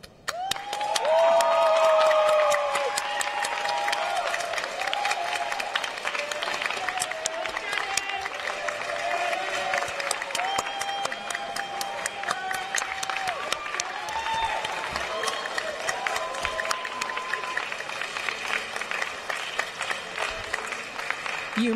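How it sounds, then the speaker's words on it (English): Graduates at a Class of 2020 graduation ceremony cheer and applaud together, a dense, steady roar of clapping and shouting from a large crowd that holds for the whole stretch with no lull. "cheer wildly"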